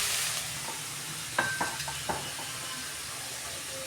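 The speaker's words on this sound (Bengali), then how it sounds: "পেঁয়াজটা আমি আর একটু লাল লাল করে ভাজবো, 2 মিনিট ভাজা হোক" Onions sizzle in a hot pan, a steady frying hiss broken by a few short clinks and scrapes of stirring near the middle.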